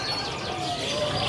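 Caged birds at a bird market, among them merlok birds and canaries, chirp and coo in a dense, continuous chorus that stays loud and close throughout, with no clear speech.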